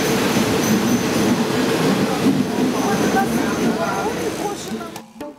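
A train rumbles heavily along the tracks in Thailand or Cambodia, wheels squealing and clattering close by in a continuous loud roar, then cuts out abruptly.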